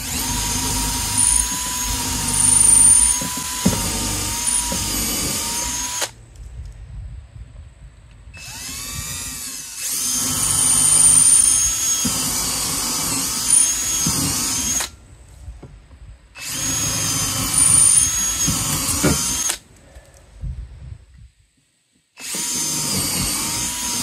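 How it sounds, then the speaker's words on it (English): A power drill bores mounting holes for a hose reel installation, running in several long bursts of steady high whine separated by short silences, loud and close with no talk. "So now I'll drill the other 3 holes."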